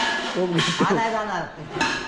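Metal cooking pots and vessels for a communal meal clatter as they are taken out and handled, with a few sharp knocks. People talk nearby.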